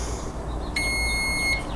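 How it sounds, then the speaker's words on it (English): A single high electronic tone sounds for under a second over a steady low engine-like hum from a Wen Power Pro 3500 generator, clear and fairly close. "So we should actually have a beep when it's off."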